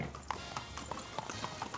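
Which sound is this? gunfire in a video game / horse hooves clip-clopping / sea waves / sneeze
horse hooves clip-clopping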